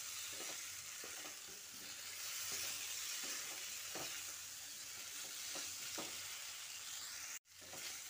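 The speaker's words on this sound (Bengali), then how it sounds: "এঁচোড় ও আলুটা দিয়ে বেশ খানিকক্ষণ ধরে কষিয়ে নিতে হবে।" Boiled jackfruit and potato sautéing with spices in a pan for a Bengali kalia, a continuous close sizzle punctuated by regular scraping stirs, with a brief sharp knock near the end.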